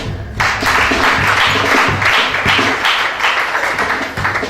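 A church congregation claps loudly and continuously, with dense applause filling the space close by.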